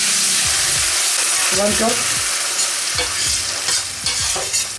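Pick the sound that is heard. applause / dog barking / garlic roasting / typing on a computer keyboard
garlic roasting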